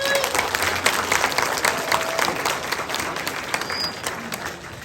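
A crowd claps steadily at a band's first regular concert, an even wash of many hands that fades slightly toward the end, with no voices over it.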